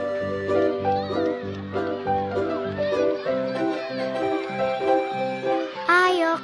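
At a school, a child imitates a cat with high meowing calls among other children's voices in a playful chanting rhythm, the sharpest meow rising near the end.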